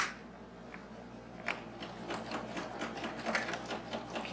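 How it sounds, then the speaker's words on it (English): A sewing machine stitches back and forth across a quilted iPad cover, giving quiet, rapid mechanical ticking in uneven bursts with a low hum beneath, close and alone. "Now this I am going to stitch back and forth just a little bit."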